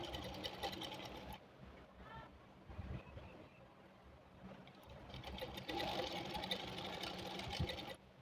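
A sewing machine runs steadily in a tailoring class, stitching along the edge of the fabric with a continuous mechanical whir that surges and eases in a few bursts, with no speech over it.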